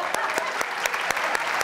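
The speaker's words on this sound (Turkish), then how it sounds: "bir alkış" Studio audience applause on a Turkish daytime television show, a steady dense clapping with periodic sharper peaks, close and continuous throughout.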